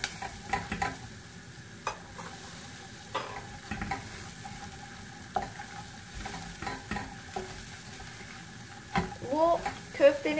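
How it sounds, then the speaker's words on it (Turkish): Flour is stirred and toasted in a pan for sulu köfte, giving a faint sizzle with repeated soft scraping strokes from a utensil across the pan bottom, fairly quiet throughout. "Şöyle karıştırarak birazcık unumun kokusu gidene kadar şöyle kavuracağım dibinde."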